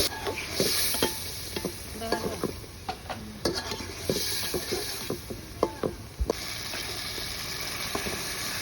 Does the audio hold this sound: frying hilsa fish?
yes